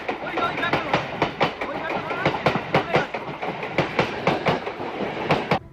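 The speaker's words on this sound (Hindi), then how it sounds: "ट्रेन जब पटरी पर चलती है तो 3 कारणों से शोर होता है" A train running on rails gives a loud, close rhythmic clickety-clack as its wheels cross the rail joints, with regular beats throughout and no talking.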